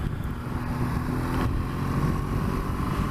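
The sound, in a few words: BMW S1000XR motorcycle engine picking up at low revs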